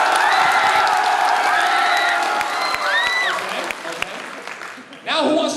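A convention panel audience of fans bursts into loud applause with cheers and whoops, sustained across the room; the noise briefly dips before a fresh surge of clapping and cheering at the end.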